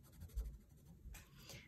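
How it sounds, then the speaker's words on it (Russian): A dark red colored pencil scratches and strokes softly on paper while outlining a fawn's nose, giving faint, close, short rubbing strokes in an uneven rhythm. "Мы берем темно-красный карандаш и обведем нос."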